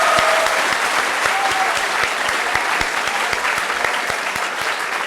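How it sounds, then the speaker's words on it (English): An audience claps together at an evening school assembly, a steady dense round of applause with some sharp individual claps standing out, holding at an even level throughout. "Let's give him a round of applause."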